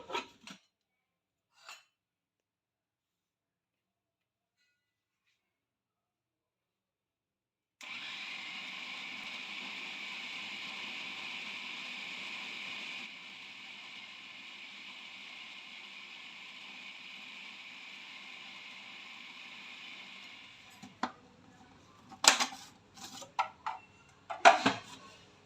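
A kitchen machine runs steadily for about thirteen seconds, mincing meat for kofte with a loud even whir that dips slightly halfway, framed by a few clicks before and scattered clattering knocks afterward.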